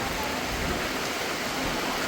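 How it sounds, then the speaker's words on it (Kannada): Heavy rain pours down in a steady, dense roar outdoors near the Sigandur cable bridge, constant and loud throughout with no break. "ಮಳೆ ಮಳೆ ಮಳೆ ಮಳೆ ಫುಲ್ಲು ಮಳೆ ಬರ್ತಿದೆ."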